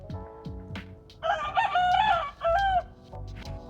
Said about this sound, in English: These freaking roosters.